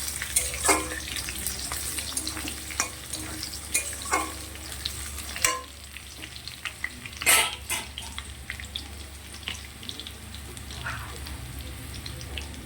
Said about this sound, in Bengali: বাকি যে কড়াতে তেলটা ছিল সেই তেলের মধ্যে দিয়ে দিয়েছি আলু।